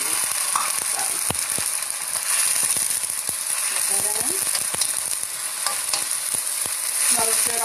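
Tomatoes go into a frying pan with smoky kale and chickpeas, giving a steady loud sizzle broken by scraping stirs and clinks of a utensil against the pan, with no voices.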